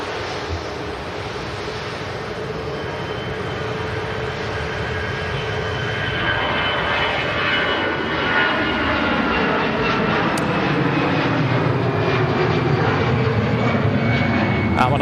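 A passenger jet takes off from Manchester Airport bound for Amsterdam, its engine roar swelling and sweeping in pitch as it climbs past, loud and sustained with a broad rushing wash throughout.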